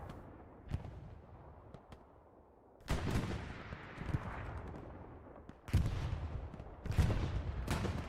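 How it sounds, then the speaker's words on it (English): Artillery shelling in the video game Hell Let Loose, with several loud booming impacts arriving in bursts over distant crackling gunfire, each blast followed by a rumbling tail. "And now artillery is starting at the point where I just marked. Yes, they're shelling the area there."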